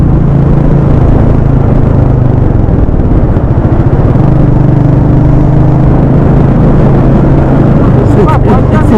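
A motorbike rumbles along a winding ghat road toward Goa, its engine a loud, steady low drone mixed with wind buffeting, and a voice talks over it in the final second.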